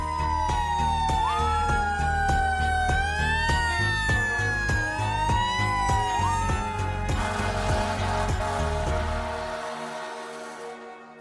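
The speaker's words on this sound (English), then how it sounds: "I'm talking, of course, about sirens." Emergency vehicle sirens wail loudly and close by, several overlapping tones sweeping up and down for about seven seconds, then fading into a dwindling rumble as they pass away.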